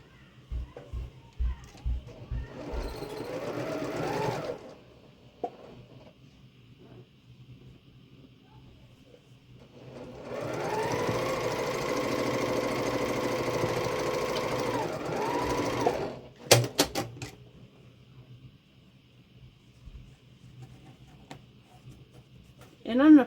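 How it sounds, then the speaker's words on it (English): A sewing machine stitches quilt block pieces together in a long steady run of fast mechanical whirring, with shorter bursts before and after it and a light clatter of handling in between. "So I'm going to go ahead and sew these pieces to the center"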